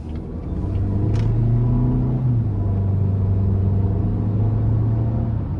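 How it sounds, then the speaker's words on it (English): A 2017 Volvo XC60 T6 AWD with a 302-horsepower turbocharged and supercharged four-cylinder drives on the road, its engine a loud, steady drone heard from inside the cabin, rising slightly in pitch. "take this 2017 XC60 T6 all-wheel drive out on the road for a quick test drive"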